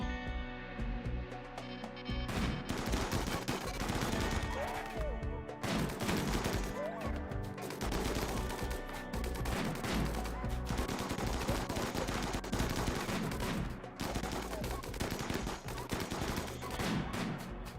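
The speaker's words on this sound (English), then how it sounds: "we'll see our Vulcan cannon again" A Vulcan cannon in the video game RimWorld fires nonstop, sustained rapid bursts that stay loud and dense throughout.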